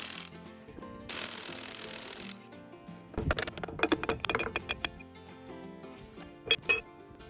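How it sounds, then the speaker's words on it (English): An impact wrench removes a rear half shaft from a truck's differential, hammering in loud, rattling bursts after a short hiss, the impacts close and irregular. "I won't cut this bit out just so you can see how good this impact wrench is for the money"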